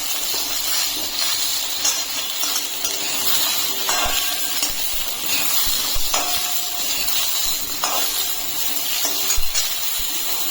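Vegetables, including pumpkin, fry in an open pan for a Bengali mixed-vegetable curry, giving a steady, close sizzle and hiss that runs unbroken throughout, with faint stirring scrapes now and then.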